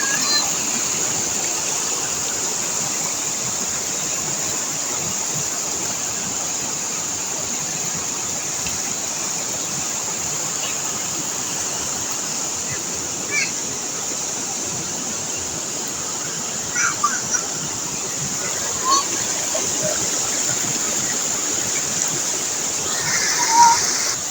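Steady, broad rush of a waterfall at Little Baguio Falls in Bacuag, Surigao del Norte, Philippines, constant and moderately loud, with faint splashes and distant voices appearing briefly toward the end.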